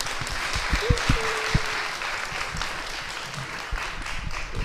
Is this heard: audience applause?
yes